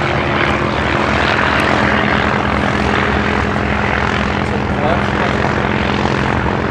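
A Tiger Moth biplane's propeller engine drones loudly and steadily in flight, a constant close roar filling the cabin with voices talking beneath it.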